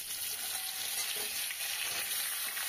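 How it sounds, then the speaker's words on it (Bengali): Cut potatoes frying in hot oil with black cumin seeds, a steady loud hiss of sizzling that fills the whole stretch without pause, close by, for a thin fish curry of grass carp. "তো আলুটা দিয়ে দিলাম তেলের ওপরে।"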